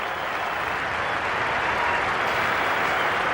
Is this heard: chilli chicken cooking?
no